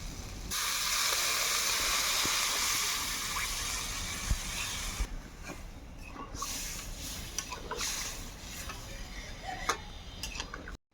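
Water tipped into hot cooked-down masala with fried potatoes hisses in a loud burst of steam, then settles into softer bubbling with small clicks and taps nearby.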